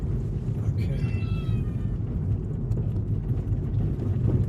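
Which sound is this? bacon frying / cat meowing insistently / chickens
cat meowing insistently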